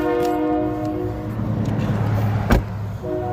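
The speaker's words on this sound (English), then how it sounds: "how long is this train, man? It's still going" A train passes close by, its horn sounding long, sustained blasts over a low rumble of rolling wagons, with a sharp clank partway through.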